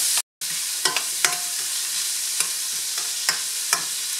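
Onion sautés in a pan for pasta with broccoli rabe, mushrooms and bacon, giving a steady hissing sizzle with regular light clicks of stirring, after a brief silent gap at the start.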